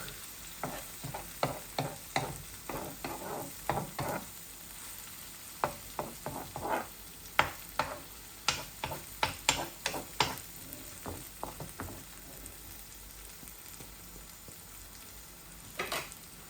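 Onions frying on a low flame for an egg omelette curry, a soft continuous sizzle broken by a long series of sharp, rhythmic scraping stirs of a spatula in the pan, then a quieter stretch.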